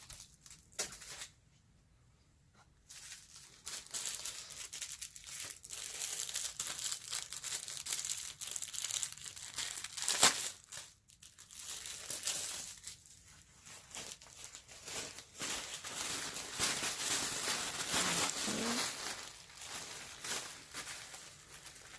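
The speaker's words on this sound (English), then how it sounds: "I'm going to wrap this tissue paper around" Tissue paper crinkles and rustles steadily as it is wrapped around a Valentine's gift basket, close and fairly loud, with a brief quiet pause near the start and no speech.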